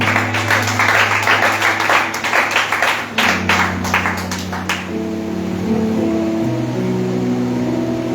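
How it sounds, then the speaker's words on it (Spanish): A church congregation applauds for God for about five seconds with sustained organ or keyboard chords beneath, then the clapping stops and the music carries on alone. "Un fuerte aplauso para Dios"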